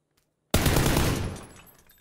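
Loud burst of gunfire in a desert-map shooter game, erupting suddenly after near silence into a dense fusillade that rolls on for about a second before fading out.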